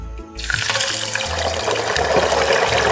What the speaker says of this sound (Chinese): 油热后，将鹌鹑蛋放入，